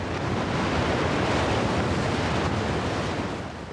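Powerful whitewater of the Dudh Kosi river in Nepal, a loud, steady broadband roar of rushing rapids that holds constant throughout with no breaks.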